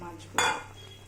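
Fried fish pieces drop into a pot of boiling water with a single short splash and sizzle, near and moderately loud, fading quickly back to a low background hum.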